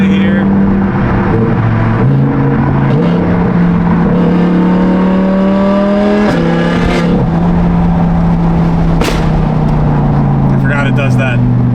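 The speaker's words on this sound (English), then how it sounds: "I will miss the supercharger behind me, V10, Valvetronics screaming." A supercharged V10 car engine with Valvetronic exhaust: a loud, close engine note that climbs and falls through the gears with a sustained whine, loud throughout, with nobody speaking.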